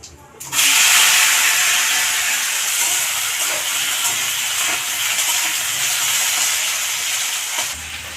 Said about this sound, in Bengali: এদিকে আলু ফ্রাই হচ্ছে।